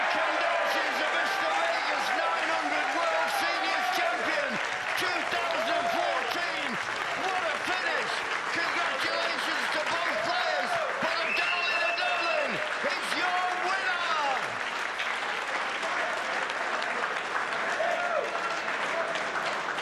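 Sustained applause from a snooker audience at the end of a final frame settled on a blue ball shootout, loud and dense throughout, with a commentator's voice talking over the clapping.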